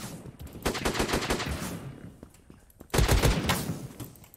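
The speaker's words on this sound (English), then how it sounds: "can everyone stop using shotguns? That's just annoying." Repeated shotgun blasts in the browser shooter Krunker.io, rapid booming shots in two clusters, moderately loud and close, with no talking over them.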